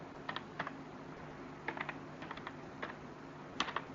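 Someone types code on a computer keyboard while building a game in code.org Game Lab. Faint, uneven clusters of soft keystrokes sound against a quiet room with a low background hum.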